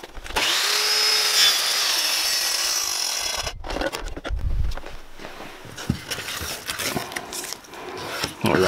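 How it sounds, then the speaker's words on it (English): A chop saw whines up and bites through a pine board taped with painter's tape, a steady loud cut for several seconds, then the blade spins down amid clunks and handling noises. "reduce some of the tear up that's going to occur on this pine with the chop saw blade"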